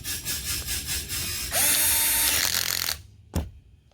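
A ratchet tightens the coupler on a STIHL Kombi tool: a quick series of close clicking strokes, then a louder continuous whirring burst, then an abrupt stop and one final clunk, with no voices.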